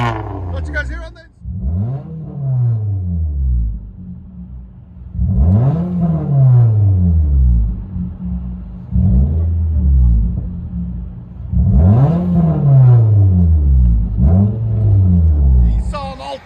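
Straight-piped 2016 Nissan Altima 2.5L with dual exhaust and 4-inch tips revving hard, several loud rising-and-falling blips repeated close by, with voices around it.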